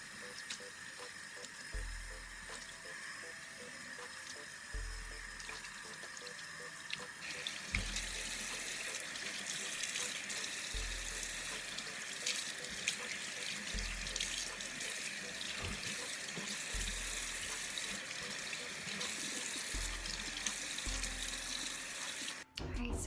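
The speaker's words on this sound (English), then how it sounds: "So I just washed my face." Tap water runs steadily into a bathroom sink while someone washes their face, with a constant close hiss and intermittent splashing, and a low rhythmic thumping recurs underneath throughout.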